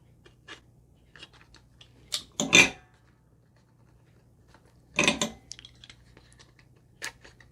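Plastic packaging for a clear Samsung Galaxy A34 5G phone case is cut and crinkled open up close, with two louder bursts of rustling snips between quiet ticks and taps.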